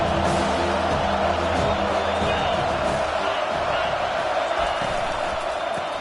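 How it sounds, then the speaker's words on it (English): A college football stadium crowd roars behind the defense on a third down, a dense sustained wall of cheering that stays loud throughout, with a commentator talking over it. "Decibels rising as the crowd gets behind this defense on third down."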